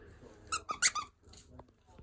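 The Sweep puppet character squeaks four times in quick succession, sharp high-pitched squeals up close, followed by a faint fainter squeak amid quiet background.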